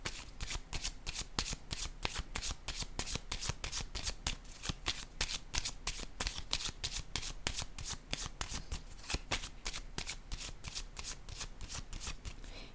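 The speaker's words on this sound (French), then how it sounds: "Je vais déposer une carte." Tarot cards are shuffled and laid down in a steady, rapid riffle of crisp paper flicks that continues evenly for over twelve seconds, close and fairly quiet, with no talking.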